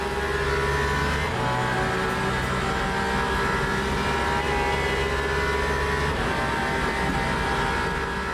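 A Toyota race car engine in the Le Mans Ultimate racing game, a loud, steady high-revving drone that holds for several seconds and dips slightly as it approaches a chicane under braking.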